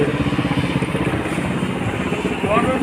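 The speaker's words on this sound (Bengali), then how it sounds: "ওখান থেকে আরেকটা আসতেছে ট্রলার।" A trawler boat on a river in a rocky setting puts out a steady, rhythmic engine chug that holds throughout, while a voice speaks over it.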